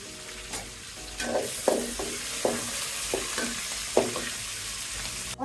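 Chopped ginger, green chilli and bay leaf frying in hot oil on a village kitchen stove, a steady close sizzle with repeated stirring scrapes every half second or so.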